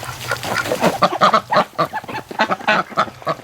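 Several ducks quack and honk in a rapid, overlapping chorus, close and fairly loud, with steady calls running throughout and no one talking.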